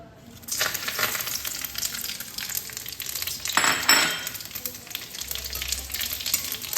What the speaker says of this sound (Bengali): গরম সর্ষে তেলে দিয়ে দিচ্ছি একটা বড় তেজপাতা, হাফ চামচ সাদা জিরে, একটা শুকনো লঙ্কা, দুটো এলাচ আর দুটো দারচিনি